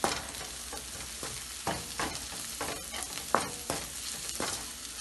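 Spices are stirred into onions sizzling in a pan for anda ghutala, with a steady close sizzle under repeated scraping stirs of a spoon against the pan and no talking.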